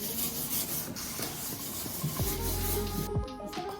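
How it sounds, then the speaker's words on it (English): Light hand sanding with 1000 grit sandpaper on a bedroom surface during lime wash and custom stain work gives a soft, continuous rubbing hiss, close and alone, with a brief low hum joining near the end. "I'm just gonna do a really light sand with 1000 grit sandpaper."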